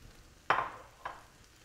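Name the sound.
stirring taco seasoning and salsa mixture in a pan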